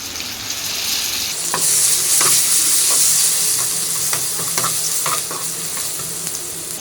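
A goat brain masala fry base of chili powder, turmeric, mint and coriander sizzles over a low flame while being stirred, with a loud steady hiss and quick scraping spatula strokes close by.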